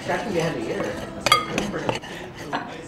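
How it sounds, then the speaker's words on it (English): A spoon stirs a teaspoon of salt into a mixture in a bowl for vegan sweet potato samosas, giving a few bright clinks and scrapes against the bowl while someone talks. "we're just gonna stir that together"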